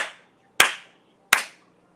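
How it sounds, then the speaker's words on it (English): Hand claps, the listener told to clap three times; two sharp, distinct claps stand clear, roughly three-quarters of a second apart, in a quiet room, with a fading sound at the very start, no talking over them. "And clap 3 times."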